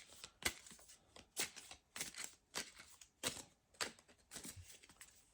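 A deck of tarot cards is lightly shuffled up close, with quiet, papery riffles and slaps repeating in short bursts about twice a second.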